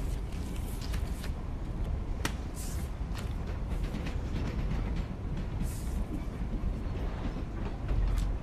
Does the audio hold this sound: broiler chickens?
no